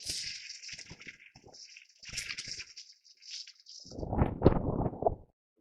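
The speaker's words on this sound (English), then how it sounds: "Rinse my hands real quick." Running water rinses a pair of hands in the final second and a half, a loud, dense splashing rush after quieter clicks and kitchen handling sounds, no voices.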